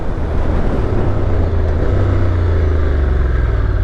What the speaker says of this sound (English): Oh, it's nice on the downshift.